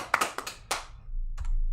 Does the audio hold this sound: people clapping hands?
yes